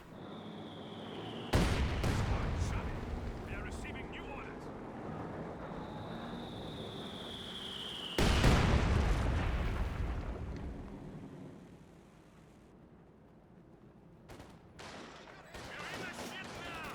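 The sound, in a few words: squad gunfire in video game Company of Heroes 2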